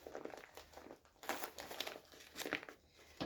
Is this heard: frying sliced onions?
no